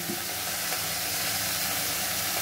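Vegetables fry in a pan with salt, a steady close hissing sizzle, no voices.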